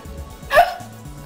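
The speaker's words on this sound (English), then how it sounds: "That was a hiccup, not a piercing." A single sharp hiccup, sudden and close, standing out briefly from quiet background with faint talking around it.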